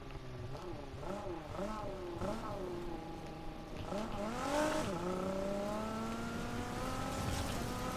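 A Need for Speed Heat car drifts off-road across a bumpy construction site, its engine revving and rising in pitch through repeated gear shifts and a long climbing whine, moderately loud and close throughout.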